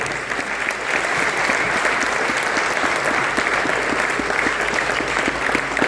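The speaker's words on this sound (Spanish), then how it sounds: "Si vas a aplaudir al Señor, hazlo fuerte." Church congregation applauding loudly during a Spanish-language sermon, a dense steady wash of many hands clapping that fills the whole stretch without pause.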